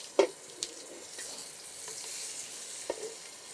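Tangra fish fry in a pan over a high flame, a soft steady sizzle broken by a few sharp clinks of a spoon or spatula against the pan.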